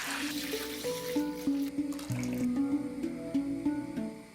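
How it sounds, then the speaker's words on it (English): Boiling water poured over washed chicken bones in a pot, a bright splashing and gurgling pour with rising bubbly tones and small drips, close and fairly quiet. "Pour the water when it reaches boiling level."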